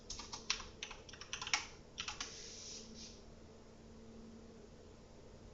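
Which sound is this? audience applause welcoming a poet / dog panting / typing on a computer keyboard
typing on a computer keyboard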